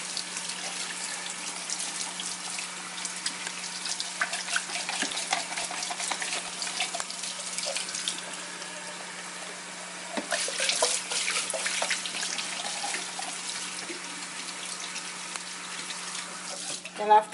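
Tap water splashes while a puff puff donut maker is washed in a sink, with clattering and rinsing noises rising and falling, then a short pause before the washing resumes.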